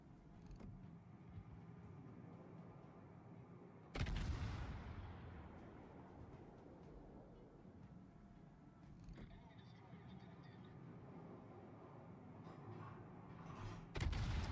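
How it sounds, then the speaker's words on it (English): Torpedoes launch from a warship in World of Warships, a sharp thump followed by a long decaying whoosh, with a second softer launch midway and another thump at the end over a low engine rumble; someone talks in the background. "I'm just gonna throw some torpedoes out"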